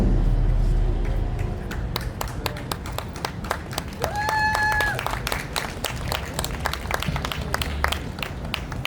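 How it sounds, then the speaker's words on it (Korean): A crowd at a royal guard changing ceremony at Deoksugung Palace claps steadily as encouragement, a dense patter of many hands. A sustained two-note tone rings out briefly over the clapping partway through. "세 번의 힘찬 목소리가 울릴 때 격려의 박수 부탁드립니다"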